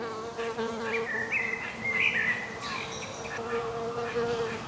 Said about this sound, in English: You're a fucking wasp